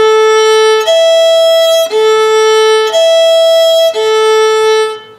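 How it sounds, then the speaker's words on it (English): A fiddle bowed with straight, centered strokes gives four long, clean sustained notes that alternate between two pitches with steady, even tone, close and loud, with no talking. "So what I'm doing is staying in the center and my bow stroke is straight."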